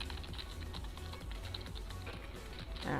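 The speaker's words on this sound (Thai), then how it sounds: "พิมพ์แบบนี้นะครับแล้ว enter ไปได้เลยนะครับ" Typing on a computer keyboard: a steady run of light, quick key taps across the whole stretch, close and fairly even, with no voices.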